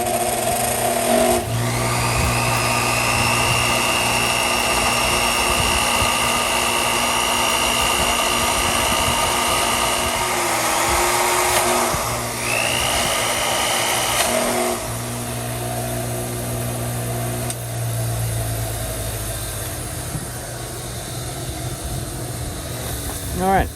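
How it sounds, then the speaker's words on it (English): A power drill whirs and revs steadily, spinning a wire brush against a drill chuck, its pitch rising and falling as it spins, with a speaking voice heard over the motor. "I'm going to run the drill while the wire brush goes around it"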